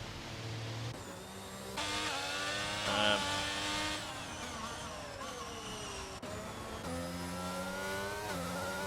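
A race car in an online racing league round at Brazil spins through donuts, its engine revving hard and rising and falling continuously while tires squeal, steady and fairly close.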